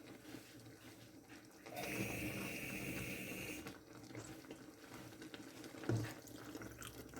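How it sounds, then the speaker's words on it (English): Tap water runs into a metal tin for a couple of seconds, a steady hollow splashing, followed by quiet handling noises. "we're going to fill the tin 1/4 of the way with water"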